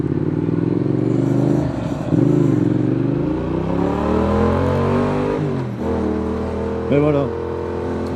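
A 2019 Yamaha XSR 700 motorcycle accelerating, engine pitch climbing steadily through the gears with brief dips at shifts, loud and close, with a short rev burst near the end.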